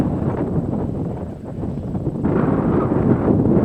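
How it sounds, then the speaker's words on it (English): Strong wind buffets the microphone on an open disc golf course at Double Horseshoe Farm during a tournament round, a steady roaring rumble that swells louder and gustier in the second half, with no talk. "It's very windy."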